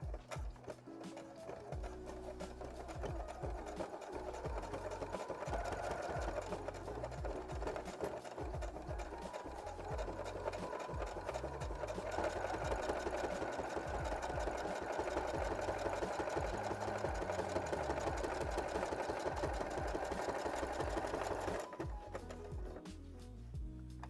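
Sewing machine stitching along an edge with gold thread, a steady close mechanical whir that runs continuously for about twenty seconds before stopping near the end.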